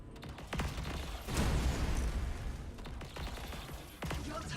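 Plasma gun fire from tactical marines in the video game Dawn of War 3: sharp bursts and crackling shots against a busy battle din, with a dense volley in the middle.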